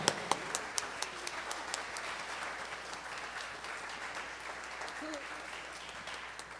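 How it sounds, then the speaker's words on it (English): At a live singing competition, a crowd gives faint, distant applause for a singer placed second runner-up, sustained clapping with a few sharper claps near the start. "Round of applause, Gillian, great job."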